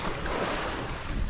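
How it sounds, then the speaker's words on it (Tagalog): Rough, choppy sea slaps and surges around a small fishing boat at sea, a loud, continuous wash of water mixed with wind buffeting, with no voices over it. "Medyo maalon kaya mahirap."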